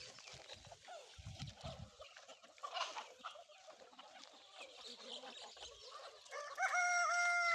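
Native country chickens and a rooster on a farm in Keernahalli village, Mandya district, with crowing and clucking rising over a busy outdoor flock and a loud, sustained call near the end.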